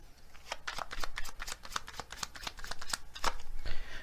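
Oracle cards being shuffled by hand, a close, quiet run of crisp riffling and flapping card sounds.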